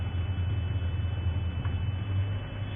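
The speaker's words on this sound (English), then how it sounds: "and a wild African tractor." A steady low engine rumble from a tractor on a safari drive at Thornybush Nature Reserve, continuous and fairly loud, with outdoor background noise and no talking.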